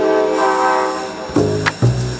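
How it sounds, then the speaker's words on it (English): Train rolling out of a Toronto station bound for Ottawa, a steady low rumble of rail cars with tonal hum, then several short sharp knocks and clanks near the end. "As the train rolls out from Toronto to Ottawa"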